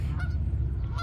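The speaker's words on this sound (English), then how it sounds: "We'll leave the geese alone" Geese honking outdoors during a walk with a yellow Labrador, repeated nasal honks at moderate distance over a steady low background rumble.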